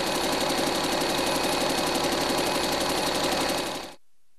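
A Cummins common-rail diesel engine idles with a dense, steady mechanical clatter and rapid rhythmic knocking, loud and close, cutting off abruptly just before the end.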